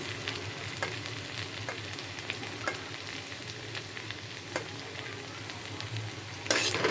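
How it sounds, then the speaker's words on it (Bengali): Okra (ladyfingers) fry in a pan with a continuous close sizzle, punctuated by light scraping clicks of stirring at irregular intervals and a louder burst at the very end. "এটা এখন ভাজা হয়ে গেছে এই সব সেদ্ধ হয়ে গেছে একদম পুরো ভাজা হয়ে গেছে"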